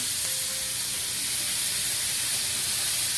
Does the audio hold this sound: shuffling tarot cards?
no